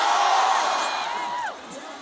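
Election rally crowd at a grand rally in Cavite cheering and shouting, a dense sustained roar of many voices with whoops rising above it, loud and close, easing off near the end.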